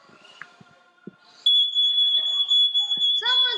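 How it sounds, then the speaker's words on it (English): Fire alarm bursts in with a loud, steady high-pitched electronic buzz that holds for about two seconds, following quiet household clatter, with a voice breaking in as it continues. "I think it's the fire alarm"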